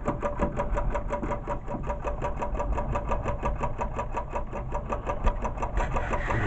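An engine cranked back up and running, settling into a fast, even chugging idle with regular pulses, loud and close throughout, with no voices.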